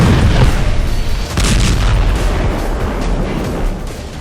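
Explosions set off to destroy Hamas tunnels across Gaza: loud, continuous rumbling blasts with booming low-end and dense crackling debris, one sharper burst about a third of the way in, sustained without a break.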